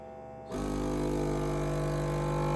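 A vacuum sealer set to seal only works on a bag of chicken. After a short quiet moment its motor kicks in with a loud, steady buzzing hum that holds unbroken to the end.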